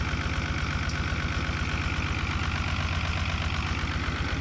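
A 1975 Chevy diesel stepside truck engine, warmed up after sitting for decades, idles loudly and steadily with a rhythmic, knocking diesel clatter, close by and without talk.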